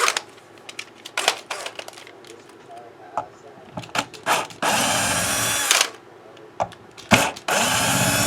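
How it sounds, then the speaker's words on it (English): A power drill working on a guitar whirs in several bursts, the longest runs lasting about a second, loud and close, with clicks and handling noises between them. "Grab my drill."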